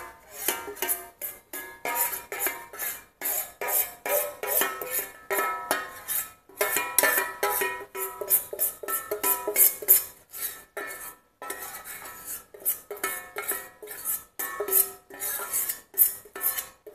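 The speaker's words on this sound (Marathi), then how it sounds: "आता हे चमच्याने मिक्स करा, कारण गरम आहे, गुळ गरम आहे आणि तूप पण गरम आहे ते." A metal spoon scrapes and clinks steadily against a steel bowl while melted jaggery and hot ghee are stirred into crumbly churma for Rajasthani churma laddoos, a close, busy run of clatter with short pauses.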